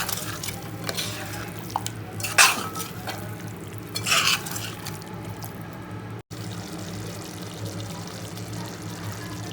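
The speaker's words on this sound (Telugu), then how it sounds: "చికెన్ దీంట్లో వేసేసి ఈ మసాలా అంతా చికెన్కి వచ్చేలాగా కింద నుంచి పైకి బాగా కలుపుకొని" Chicken pieces being stirred into thick masala in a pan for curry, with a few scraping, sloshing bursts of spoon against metal over a quiet sizzle and low background hum.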